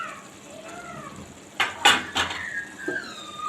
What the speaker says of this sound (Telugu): అందుకని నేను సిల్వర్ ప్లేట్ వాడుతున్నాను